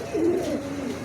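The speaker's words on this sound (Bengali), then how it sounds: "এক জোড়া শার্টিং আছে, মেলটা ডাকতেছে, এটা ফিমেল।" Male Shirting pigeon cooing close by, one soft rolling coo that rises and falls over about a second against quiet background.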